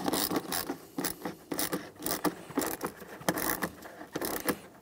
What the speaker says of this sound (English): We'll snug this 8mm headed clamp.